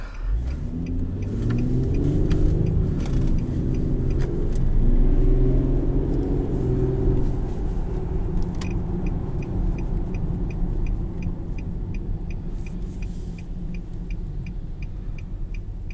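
A 2017 Infiniti QX70 Limited with a 3.7 V6 driving on the road, heard from inside as a steady engine drone that rises in pitch under acceleration and then settles into a smooth cruising rumble.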